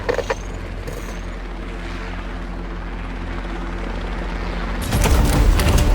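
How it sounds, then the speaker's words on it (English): A video game helicopter's steady rotor drone fills the clip, close and continuous, rising sharply louder near the end with a burst of rough noise. "It's a helicopter!"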